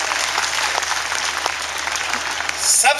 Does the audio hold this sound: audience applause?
yes